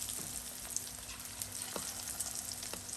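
Marinated chicken pieces deep frying in hot oil for chilli chicken, a steady close sizzle with scattered crackles and pops throughout, no voices.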